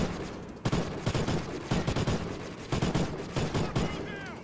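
Repeated heavy gunshots in Call of Duty: Ghosts, loud sharp reports fired in quick irregular succession, close and dominant.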